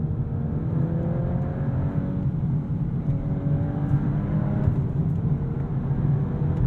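Interior drone of a hot hatch on the road, one of a Civic Type R, GR Corolla or Golf R, a loud steady engine and road hum with faint rising engine tones and no talking.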